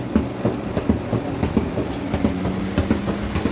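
A running Kuppet washing machine with a rapid, uneven clatter of cracking plastic inside, steady rattling knocks over a constant drum rumble.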